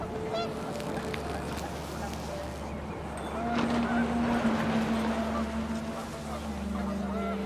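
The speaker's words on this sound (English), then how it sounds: "panicked geese appeared and quickly went" Panicked geese honk in the video game What Remains of Edith Finch, a loud flurry of calls rising over steady wind and ambient noise in the middle of the clip.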